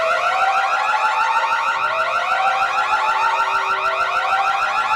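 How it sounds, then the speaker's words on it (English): A loud electronic alarm, set off by pressing a button, wails continuously and steadily for the whole stretch, close and piercing with no pauses. "alarm may sound, beware"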